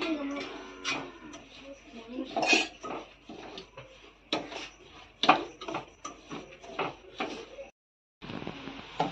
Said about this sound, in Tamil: இந்த நெய்யிலேயே நம்ம ரவா வறுத்துக்கலாம்.